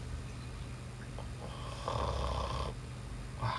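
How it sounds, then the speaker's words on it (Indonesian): A sleeping man snores steadily in a hillside hut on a mountain hike, the rasping snore swelling into a louder drawn-out breath near the middle and again at the end, close by, with no talk. "Ngorok lagi deh"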